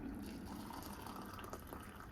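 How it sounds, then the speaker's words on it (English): Water at about 87 degrees pours steadily into a workshop mug, a soft continuous trickle and gurgle, quiet and close, with no voices. "So I'm going to pour the water"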